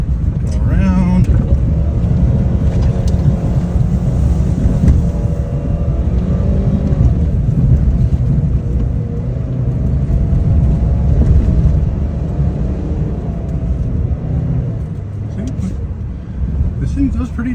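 Ford Maverick AWD FX4 pickup climbing a steep sand hill on open dunes, its engine a steady loud low rumble throughout with wind and vehicle noise, while people talk over it.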